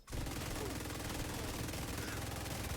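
Sustained automatic gunfire aimed at an enemy's backpack in The Division 2, a loud, continuous stream of rapid shots that runs the whole time without a break.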